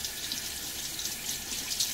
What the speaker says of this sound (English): I'm just going to add a little bit more water